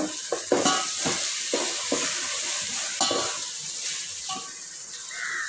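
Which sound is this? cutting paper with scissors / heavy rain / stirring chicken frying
stirring chicken frying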